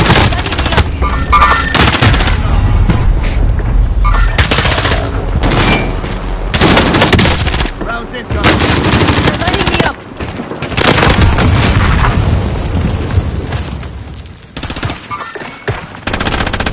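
Heavy enemy gunfire in a video game, loud sustained machine-gun bursts and shots near and overhead, broken by short pauses, with brief radio-style voices mixed in.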